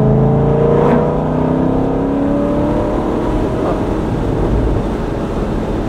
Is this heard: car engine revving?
yes